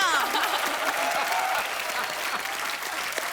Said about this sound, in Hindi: बहुत बहुत तालियां.